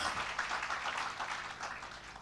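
A church congregation claps during a worship service, producing a soft, continuous hiss of many hands that sounds distant and even, with no clear individual claps standing out.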